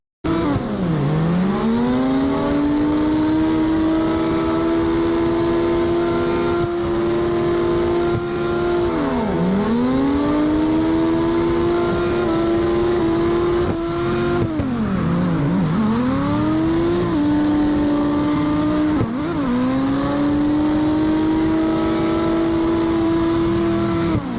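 A tuned Falcon RZ drift car in CarX Drift Racing 2 screams at high revs for a long stretch, the engine note dipping and climbing repeatedly as it shifts and slides, loud and continuous with no talk.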